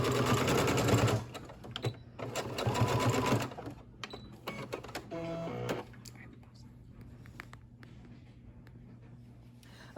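A sewing machine stitches fabric down in two loud, fast bursts of rapid mechanical rattling, followed by a shorter, quieter run and some faint handling noises; a person talks briefly between the bursts.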